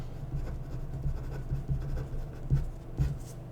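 Pen strokes scratch quietly across paper as notes are written by hand, a series of soft taps and scrapes spread over a few seconds.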